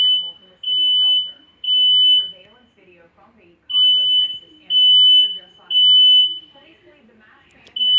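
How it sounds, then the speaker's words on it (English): A low-battery smoke alarm sounds long, piercing high beeps in an irregular run of about five sustained tones, loud and close, with people talking quietly in the gaps between them. "apparently the fire alarm has a low battery, and now it won't shut the fuck up"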